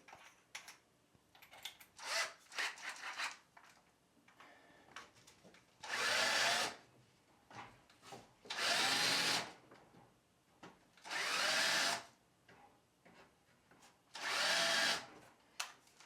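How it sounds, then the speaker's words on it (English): A power drill bores pilot holes in wood in four loud, steady bursts of a few seconds each, separated by quieter clicks and handling noises. "Once the pilot holes are drilled, I'll countersink them"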